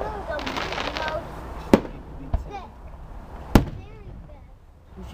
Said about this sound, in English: That firework went across the yard.